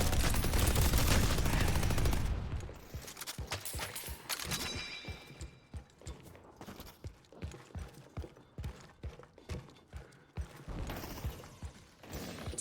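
Video game combat with turrets opening fire: a loud opening burst gives way to a rapid series of sharp mechanical shots and clanks, irregular and punchy, with no talking.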